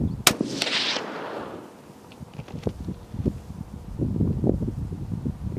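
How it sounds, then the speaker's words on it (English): A single loud, sharp report from a Howa HS Precision 1500 rifle in .300 Win Mag, fired outdoors at a 100-yard target. The crack decays quickly into wind noise, followed by faint rustling and handling sounds. "First shot's at 100 yards"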